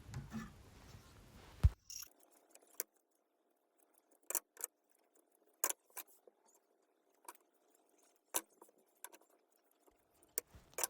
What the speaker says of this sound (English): take your scissors and trim up any scraggly bits